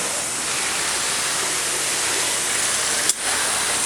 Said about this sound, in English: You want to get water all over it, all over your bike,